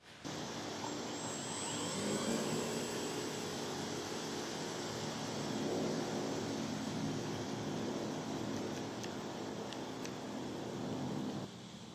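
A small engine whines steadily with a buzzing drone for several seconds, rising and falling slightly as a radio-controlled model airplane flies nearby after a long takeoff run, then cuts off.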